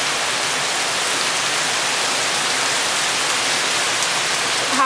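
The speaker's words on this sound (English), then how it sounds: "Here comes the rain." Heavy rain pouring down in a dense, steady hiss, loud and close, filling the whole stretch without a break and with no talking over it.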